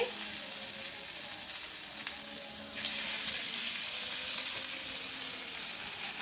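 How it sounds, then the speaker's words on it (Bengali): Gandhapata leaf fritters (bora) frying in hot oil on a low flame, a steady broadband sizzle that runs without a break, swelling slightly louder partway through. "এবার ভাজলে কিন্তু আমাদের বড়া ভাজা শেষ"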